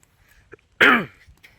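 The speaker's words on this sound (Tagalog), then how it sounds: "Tayo ay medyo hinubo ngayon." A single sharp throat clear with a short cough burst, close and loud, surrounded by quiet background.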